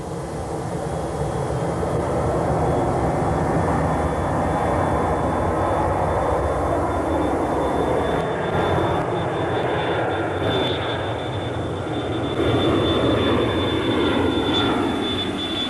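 A jet airliner's engines roar steadily at high power, a broad continuous rumble with a faint whine, sustained throughout as the plane accelerates.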